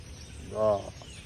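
A single brief bird call outdoors in the countryside, a short harmonic gobble-like note rising out of quiet background, heard once and moderately near.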